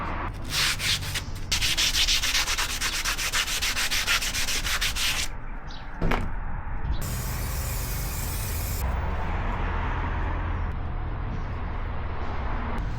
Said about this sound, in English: I'll give these a bit of a sand with some sandpaper to tidy them up